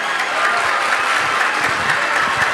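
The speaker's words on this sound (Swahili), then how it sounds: "Makofi, tafadhali." Audience applause welcoming the principal of Mandera Teachers Training College at an appreciation ceremony, a steady, dense clapping from a crowd lasting throughout with no talk over it.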